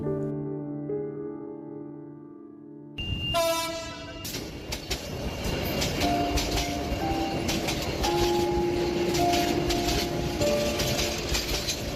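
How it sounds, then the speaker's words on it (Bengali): A train pulls into a station with a loud horn blast, then rumbles along the rails with rhythmic clattering and squealing wheels, steady and fairly close, with no talk over it. "স্টেশনে ট্রেন এসে থামতেই আমি ট্রেনে উঠলাম"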